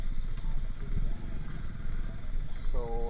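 A Royal Enfield Himalayan motorcycle's exhaust rumbles nearby, a steady low thumping idle that continues throughout, with muffled voices in the background.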